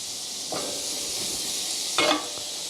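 Garlic and basil sizzle in a pan for lobster fettuccini, a steady bright hiss with two short louder bursts as the pan is stirred, with no voices.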